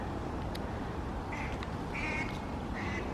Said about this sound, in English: he found another duck